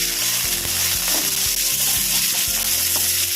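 Garlic cloves frying in a small amount of coconut oil in a pan, a steady broadband sizzle throughout with repeated low clunks and scrapes of stirring against the pan, close and fairly loud with no voices.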